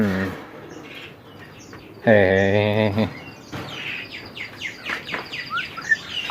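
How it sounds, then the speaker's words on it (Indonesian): Caged birds give short chirps and tweets scattered throughout, close and moderately loud, after a brief laugh and a burst of speech. "Ini ada burung di kandang malahan."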